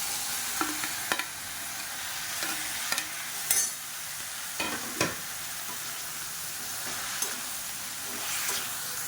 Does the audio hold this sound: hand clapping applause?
no